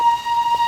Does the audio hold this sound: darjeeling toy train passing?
yes